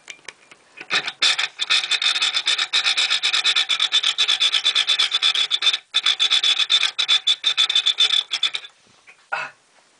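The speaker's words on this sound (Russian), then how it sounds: "Теперь надо болт допилить." A hand file rasps hard at a bolt in rapid, loud back-and-forth strokes, close and continuous for several seconds, then a short pause and a final stroke, with no voices.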